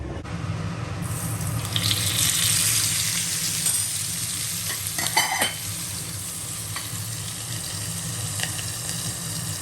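Fish frying in a pan makes a steady sizzle with occasional stirring clatter and a brief burst of water or clinking midway, all fairly close, with no talking.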